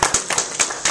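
A classroom group claps for presenters in short bursts of applause, several sharp rounds of hand claps close by with no talk over them.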